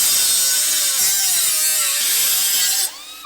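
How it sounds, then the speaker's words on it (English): An angle grinder cuts off a brake backing plate during a 2017 Camaro 1LE brake conversion, a loud, close, high metallic whine that wavers in pitch as it bites, then cuts off near the end. "This is where I'm just gonna end up taking my grinder, just kind of making a nice line, cutting that off"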